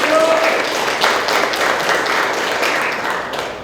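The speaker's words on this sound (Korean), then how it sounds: "큰 박수 부탁드리겠습니다." A symposium audience claps loudly in a dense, sustained round of applause that holds steady and eases slightly toward the end.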